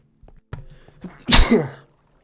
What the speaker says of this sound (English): So you had to hear me sneeze.